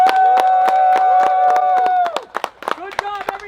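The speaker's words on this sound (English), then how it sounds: "All right, one more clap." A group at a backyard pond build claps in a steady rhythm under a held sung or shouted voice, then breaks into looser claps and cheers.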